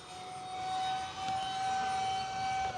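An E-flite Habu SS model jet with a 50mm electric ducted fan, flying past as a faint, steady high-pitched whine.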